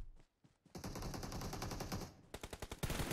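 Gunfire in the PUBG video game sounds as loud, rapid automatic bursts, first a long sustained stream of shots and then a run of distinct individual cracks, close and dominant.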